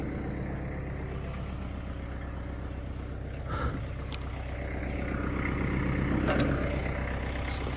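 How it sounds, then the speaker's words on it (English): A tractor engine idles steadily during the clearing of downed trees for a brush burn pile, a low, continuous rumble with a fixed rhythmic throb and a couple of brief sharp knocks partway through. "I don't even know if you guys can hear me with this tractor."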